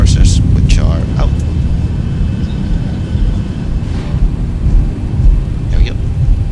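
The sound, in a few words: Boeing 737-800 thrust reversers on landing, from X-Plane 12 video game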